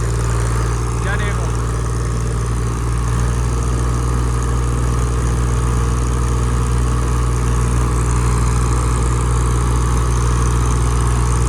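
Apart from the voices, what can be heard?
Eicher 557 tractor engine starting and running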